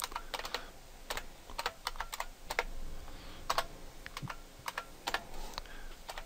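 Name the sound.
typing on computer keyboard in vim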